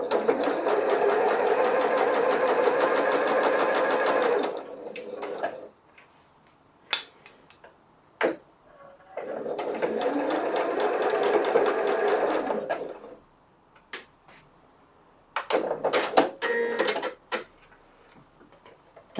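A sewing machine stitches a glasses case in three loud sustained runs, separated by short pauses filled with clicks and light handling taps.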